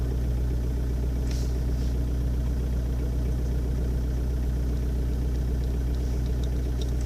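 Diesel engine running on added LPG gas, idling with a steady low rumble and a slight rise in revs, heard close up without any talk.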